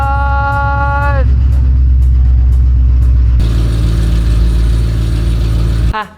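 The engine of the Black Manta Corvette, a car just revived and needing its clutch bled, runs loud and close, holding a steady rumble with a rise in pitch partway through, then cuts off abruptly at the end.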